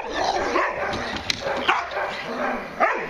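A dog barks and yips in short, close bursts over a noisy background, with people talking nearby.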